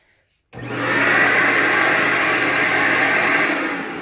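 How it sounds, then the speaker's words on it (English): A built-in Sweep-o-Vac whole house vacuum switching on abruptly and then running with a loud, steady rushing whoosh and a low motor hum, no voices over it. "This is your whole house vacuum."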